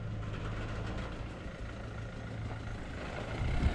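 A Ford Focus engine runs steadily as the car is driven slowly around a scrapyard, a low continuous hum at moderate distance that swells slightly near the end.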